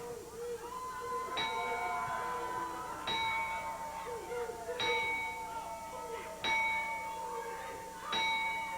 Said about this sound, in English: let's take out a moment of silence with the traditional ringing of the bell